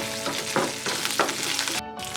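Curry leaves spit and crackle as they hit hot oil with dried red chillies in a pan for a soya chunks dry roast, a close bright sizzle with sharp pops and stirring scrapes, briefly cutting out near the end.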